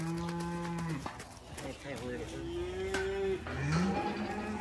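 A cow on a farm moos for her calf in several long, loud calls close by, one after another, with other cattle lowing in the background.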